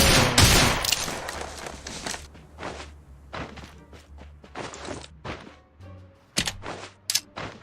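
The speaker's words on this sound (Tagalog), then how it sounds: "May narinig akong gunshots dyan sa tabi." Gunfire in the mobile battle royale game Rules of Survival, a fusillade of sharp bursts with dense rapid shots at the start, then scattered single reports and thuds, with a few loud shots near the end.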